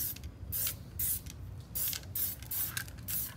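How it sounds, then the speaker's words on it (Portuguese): Spray paint can hissing in repeated short bursts with brief pauses between them, close and fairly loud, with no talking. "E o lance de pintar com spray é assim"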